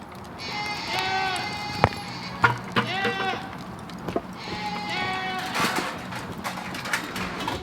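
Several goats bleat in wavering, repeated calls at milking time on a homestead, fairly close, with a few sharp knocks and clatters between them and a voice briefly talking.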